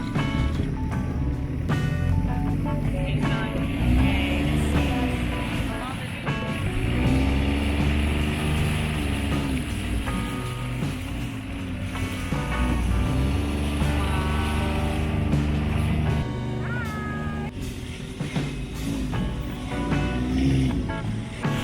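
A long boat's motor drones steadily and loudly throughout on a mangrove tour near Châu Đốc, its pitch rising and dipping slightly as it cruises, with water and wind noise around it.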